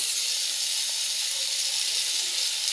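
Sliced onion hits hot oil tempered with cumin and chilli in a pan, giving a steady, bright sizzle and hiss that holds evenly close up with no talking.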